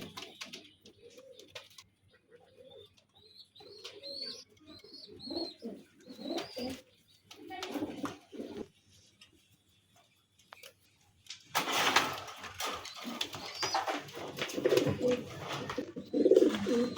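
Pigeons coo at home in a loft, a series of soft, repeated low coos heard close and alone, followed by a burst of louder rustling and flapping noise.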